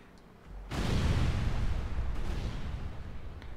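A single deep, booming cannon shot from a ship in the game Caribbean!, a sudden loud blast that rolls on as a long rumbling roar.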